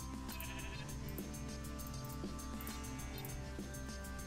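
Sheep in Minecraft bleat repeatedly over steady game background music, the calls clear and fairly loud.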